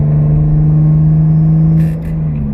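A turbocharged Lexus IS300 with an aftermarket exhaust cruises along, its deep, steady exhaust drone and low rumble loud and constant, heard from inside the car, with a brief higher hiss near the end.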